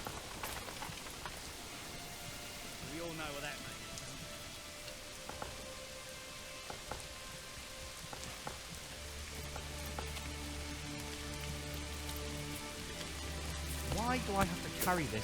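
Rain falls steadily in a medieval city-building video game, a soft continuous patter heard quietly throughout, joined later by low droning music and a few faint chirping tones.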